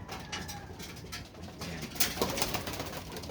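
Soft pigeon coos at low volume beneath rustling and fluttering, with a few sharp clicks and wing flaps nearby.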